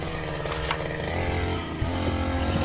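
A grass cutter engine runs at a steady buzzing pitch with slight surges, loud and close, a continuous two-stroke drone on a farm with no talking.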